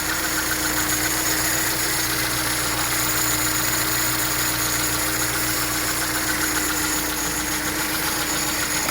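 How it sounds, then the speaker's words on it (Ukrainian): A 1.3-litre VAZ 09 car engine idles steadily on a Chinese LSA Solex carburetor after repair, hot and pinging slightly, with a constant close, even rumble and no talk. "Зараз машинка чуть детонірує, тому що машина гаряча, я перевіряв."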